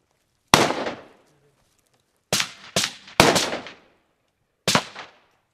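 During explosives breaching training, charges detonate on a door in five sharp, loud bangs: one alone, then a quick cluster of three, then a final blast. Each bang has a short ringing tail, with silence in between.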